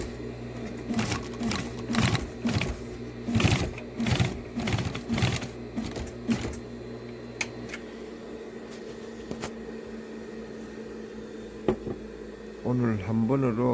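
A 640 denim sewing machine stitches a thick jeans seam in repeated loud rapid bursts of mechanical chattering, pausing between runs, with a person talking near the end.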